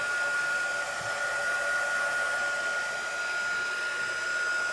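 Hair dryer blowing steadily on wet chalk paste for a craft transfer, a constant close, loud whirring hiss with a faint high whine running unbroken throughout.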